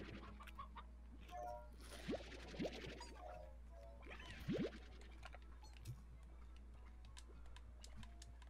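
Video game chickens clucking faintly, a few short separate clucks over a low steady hum, with no talk.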